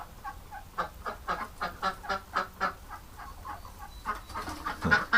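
Female ducks give a run of loud, agitated quacks in quick rhythmic bursts, about a dozen calls close by, with a harsher flurry at the end.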